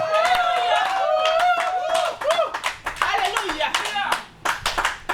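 Church congregation clapping in acclaim during a French-language sermon: dense, steady rapid applause throughout, with a voice calling out loudly over it and the claps thinning near the end.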